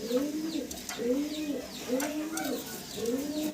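A pair of big King pigeons coo in repeated rolling phrases, close and moderately loud, with faint background noise.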